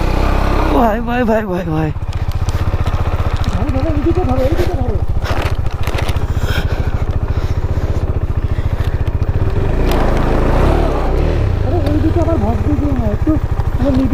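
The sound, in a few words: KTM Duke 390 motorcycle engine starting and running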